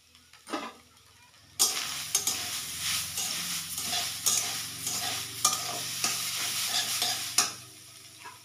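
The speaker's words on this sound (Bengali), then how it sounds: "কড়াইটা গরম হয়ে গেছে, নারকেল দিয়ে দিচ্ছি।" Grated coconut hits a hot wok and is stirred over a gas flame, a steady sizzle and hiss with repeated scraping strokes of the spatula, close and fairly loud after a brief quiet start.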